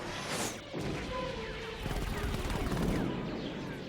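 A distant, muffled firefight in the 1984 adventure game The Revenge of Cobra, with continuous crackling shots and crashes under a rumbling backdrop, and a voice speaking over it.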